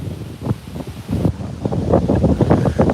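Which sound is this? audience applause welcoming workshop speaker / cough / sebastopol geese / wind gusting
wind gusting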